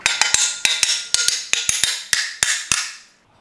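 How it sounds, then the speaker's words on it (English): A copper hammer taps a rear timing cover onto its dowels on a Nissan YD25 engine, a quick series of about fifteen sharp metallic strikes in an uneven rhythm, each ringing briefly, close and loud. "Then tap it on with a copper hammer."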